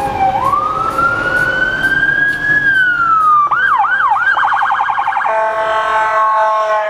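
Loud ambulance siren nearby, a long rising wail that then breaks into a rapid yelping warble before settling into a steady multi-tone hold, with no voices.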